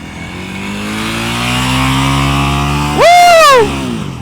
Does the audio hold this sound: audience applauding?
no